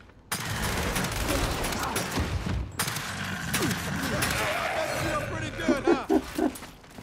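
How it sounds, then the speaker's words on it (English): Marksman rifle firing in the video game Gears 5 multiplayer, loud repeated shots over a dense wash of battle noise, with someone talking throughout. "Alright, marksman rifle time, boys."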